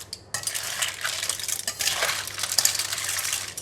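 Stir-fried lala clams with basil, garlic and chili being mixed in a pan: close, continuous scraping and clattering of a utensil against the pan and shells in quick, irregular strokes.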